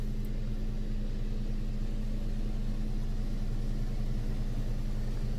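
Ryko Softgloss Maxx 5 automatic car wash with onboard dryers running, a steady loud mechanical hum and whirring drone with constant low rumble, no talk.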